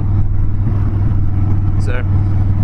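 A Harley-Davidson Dyna Wide Glide motorcycle rides along with its throttle opened, a loud, steady, deep engine drone that stays close throughout.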